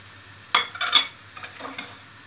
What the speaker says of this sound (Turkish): Evet, artık soğanlarım biraz kavruldu. Ve şöyle sarımsaklarımı ilave ediyorum.